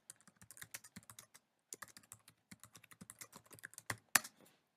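A computer keyboard clatters close up in rapid irregular bursts of keystrokes, with a brief pause, ending with a couple of sharper, heavier presses.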